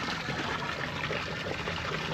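Water gushes steadily from a fixed bilge pump emptying a flooded dinghy, a continuous close splashing stream with no pauses.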